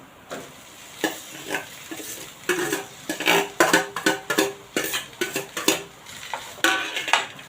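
Grated potato is stirred and tossed in a frying pan over a low gas flame. A spoon scrapes against the pan in a quick, uneven series of close strokes, with soft sizzling between them and no talk.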